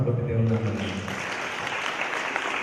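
A church congregation at a pastor's sermon breaks into dense, steady hand clapping in praise of God, following a brief voice at the start and filling the room to the end.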